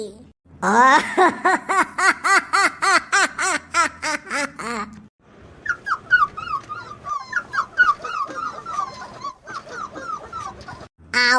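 A cartoon dog yelps in a fast string of loud, close barks, then shifts into a series of higher, wavering whimpers and whines, with no talk over it.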